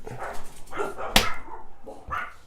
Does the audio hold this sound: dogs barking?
yes